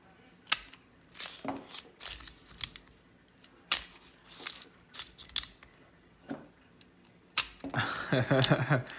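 Plastic clicks and snaps from a lightweight TOUGHBUILT utility knife as its blade magazine is ejected, a series of sharp separate clicks followed by a brief rattling scrape at the end, close up with no talking.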